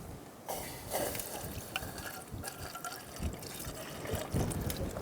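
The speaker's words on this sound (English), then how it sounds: "I'm just going to add a little bit more methyl hydrate fuel now that the stove is totally burned out." Methyl hydrate fuel trickles from a bottle into a burned-out camping stove during winter camping, soft intermittent liquid pouring and dribbling sounds up close, fairly quiet.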